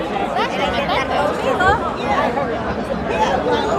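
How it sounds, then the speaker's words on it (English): Large festival crowd at the OLMC Feast Giglio night lift in New York, a constant loud hubbub of many voices talking at once, close and unbroken throughout. "This is a bigger crowd than what we had last year."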